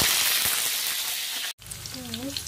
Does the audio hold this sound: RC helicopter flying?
no